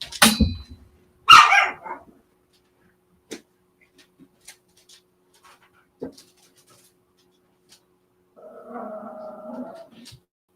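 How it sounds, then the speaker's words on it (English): Several dogs give a few sharp, loud barks at the start, then scattered faint yips and scuffles in a quiet space, ending with a longer whining howl. "That's your dogs running around."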